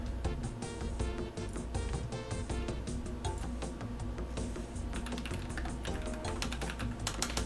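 Rapid, uneven clatter of keys on a computer keyboard, a dense run of close, crisp clicks with brief pauses, no voices.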